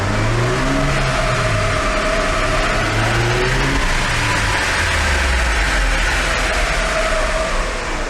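Engine of a Smart Brabus ForFour with a Mitsubishi engine running loudly and continuously on a dyno, its pitch rising and falling in repeated rev sweeps, with no voices.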